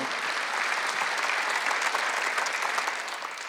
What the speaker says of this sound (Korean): 믿는 사람만 박수해